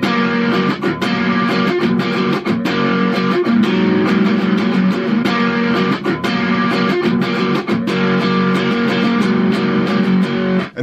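Heavily distorted electric guitar chords fill the whole passage with a loud, dense, sustained wall of strumming, two separate takes panned hard left and right, from the outro of a song.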